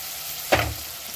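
Vegetables including capsicum sautéing in a pan for creamy white sauce pasta, a soft steady sizzle with one brief stirring scrape partway through, close and without talk.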